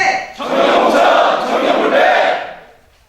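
A large crowd at a Korean youth political party rally shouts a slogan in unison, a loud massed roar of voices that swells, holds, then fades away.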